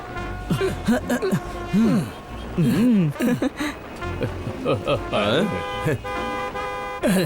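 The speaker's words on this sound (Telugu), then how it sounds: "వాడు వెనకాల కూర్చొని హారన్ కొడుతున్నాడు" A cartoon vehicle horn toots repeatedly in short honks, mixed with lively animated voices and background music.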